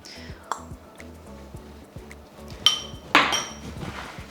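Dry ingredients for a gluten-free apple crumble are stirred in a bowl, giving light clinks and taps against the bowl. A stronger clatter comes near the end, with faint voices in the background.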